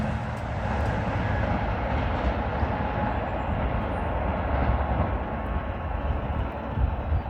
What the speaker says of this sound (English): Symbol on that train was via 64